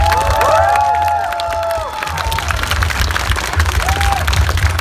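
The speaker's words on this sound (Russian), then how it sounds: "Похлопаем Джиму Лоусону." Theater audience at a Russian stand-up comedy festival applauding and cheering loudly for comedian Jim Lawson as he leaves the stage, a dense steady wash of clapping with whoops and shouts that thins slightly midway.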